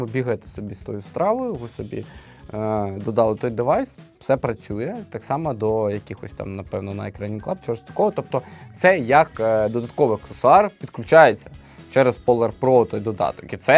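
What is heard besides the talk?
None of the usual background noises is heard.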